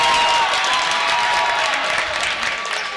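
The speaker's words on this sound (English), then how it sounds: "Good energy from the Assumption crowd early on here." Crowd at a high school boys' regional basketball game, Assumption at Wild Rose, applauding and cheering steadily in a gym, a dense continuous wash of clapping with no break across the moment.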